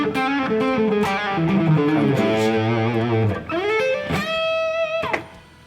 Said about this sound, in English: the tube screamer, we get some kind of low output distortion,